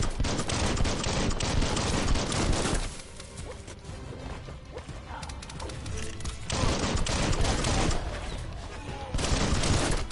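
Gunfire in the game Biomutant, dense rapid bursts of shots and impacts, loud and nearly continuous, easing to a slightly quieter stretch midway before intensifying again.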